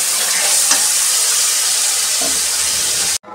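Masala spices sauté in hot oil with a steady, bright sizzle and hiss close up, broken by a soft stir partway through before it cuts off abruptly.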